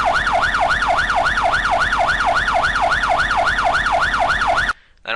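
A custom siren made for GTA IV wails in a fast, regular up-and-down sweep, loud and steady, then stops abruptly just before the end.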